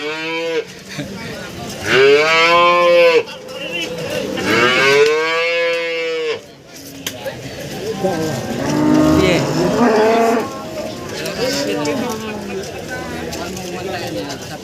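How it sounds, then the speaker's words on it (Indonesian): Agitated cattle moo loudly nearby at a cattle market, two long drawn-out calls followed by a rougher, lower bellow, with some background noise. "Sapi gesit"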